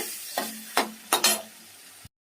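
Tomatoes frying in a pan while being stirred, with a soft steady sizzle and a few distinct scraping strokes of the spoon against the pan, close by and without talk.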